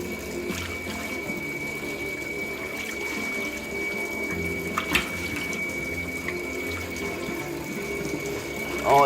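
Running water rinses a bathroom surface just cleaned with a homemade baking soda cleaner, a steady close hiss and splash that holds level throughout, with a faint sharp clink midway and no speech.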